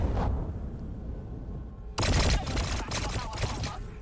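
Units in Warhammer 40000 Battlesector open fire on a Rhino transport: a sudden burst of loud, dense gunfire and impacts erupts halfway through, rattling on in rapid overlapping cracks after a quieter rumbling stretch.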